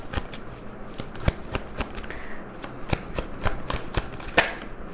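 Tarot cards being shuffled by hand, a steady run of soft riffling and slapping close up, with faint room noise behind it.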